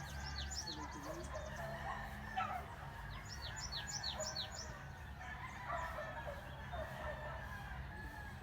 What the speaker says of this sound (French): tous les bruits de la ville, chiens et coqs